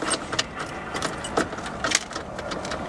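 Car keys jangle and clink inside a wrecked Alfa Romeo at a salvage auction yard, a string of small metallic rattles close by with a couple of sharper clinks over a steady background hum.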